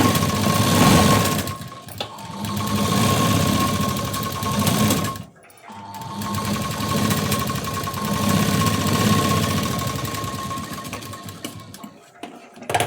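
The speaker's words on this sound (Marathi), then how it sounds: "आता यावरती एक दाब शिलाई द्यायची" A sewing machine stitches a pressed seam along a sleeve lining in long, even mechanical runs, loud and close, stopping once briefly midway before starting again.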